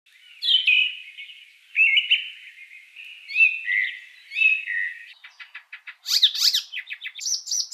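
A bird chirps at its nest in the courtyard of the Thamarassery mini civil station, giving a string of clear, close tweets that turn into rapid, sharper notes near the end, with no other sounds.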